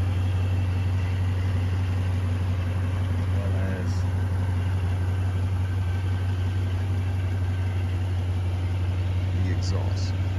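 A Jeep Grand Cherokee SRT8 with its muffler deleted idles steadily, a deep, continuous low rumble with a constant drone throughout and no talking over it.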